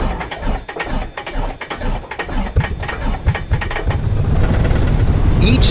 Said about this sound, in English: Let me show you an engine start.